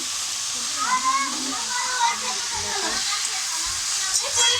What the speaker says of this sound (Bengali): দেখো শাকটা ভেজে নিচ্ছি